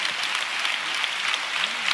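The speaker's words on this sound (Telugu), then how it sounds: "పర్లేదు, చప్పట్లు కొడతాం గట్టిగా వాడికి." A church congregation claps loudly and continuously, a thick, steady roar of many hands, close and sustained throughout.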